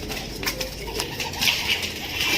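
Pigeons coo inside a loft, soft overlapping coos and flutters over a dense, constant background of bird noise, fairly close and steady throughout.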